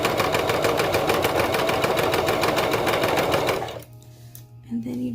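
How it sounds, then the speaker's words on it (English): A sewing machine runs fast top stitching about an eighth of an inch from a folded fabric edge on a romper, a steady rapid needle clatter for several seconds before it stops, leaving a quiet room with a faint hum. "I am doing about an 1/8 inch top stitch from the edge here"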